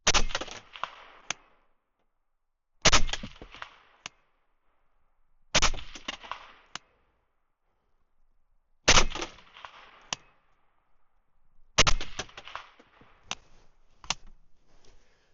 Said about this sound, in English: All that length and weight makes this rifle extremely pleasant to shoot.